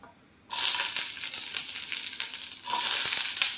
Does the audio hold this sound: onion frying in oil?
yes